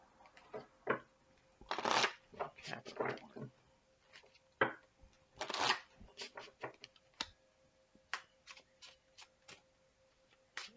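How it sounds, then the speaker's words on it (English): Oversized oracle cards are shuffled sideways in quick, uneven bursts of riffling and slapping, close and fairly quiet, with brief pauses between bursts. "I have to shuffle them sideways and everything."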